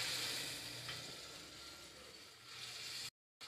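Tomatoes frying in a pan with garlic and ginger give a steady, soft sizzle and crackle, faint and close, with a brief clink partway through and a short cut to silence near the end.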